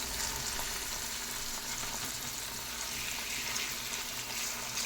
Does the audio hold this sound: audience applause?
no